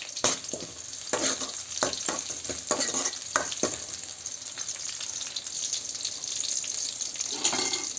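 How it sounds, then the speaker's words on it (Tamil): Spices for mutton curry crackle and sizzle in hot oil, a steady bright frying hiss with a few sharp pops and stirring scrapes, close and fairly loud. "அளவாக மட்டும் தாளிக்கிறேன்"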